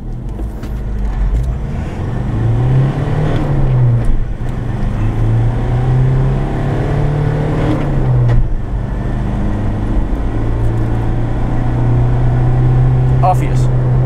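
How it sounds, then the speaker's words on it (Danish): Defender Adventure 110 with a 122-horsepower Ford Transit engine accelerating from 0 to 80, a loud droning engine note rising and dropping through gear changes from inside the cabin, with someone talking over it. "Sådan her er 0-80 i en Defender Adventure 110. 122 hestes, Ford Transit motor."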